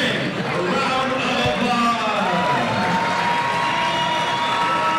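A crowd cheers and applauds for a stand-in ring card girl at an All Star Boxing event in Southern California, a steady roar of voices and clapping that fills the hall throughout.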